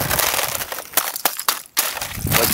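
Ice on a river cracks and crunches during an ice storm, a dense loud crushing texture broken by several sharp snaps and brief pauses, heard up close.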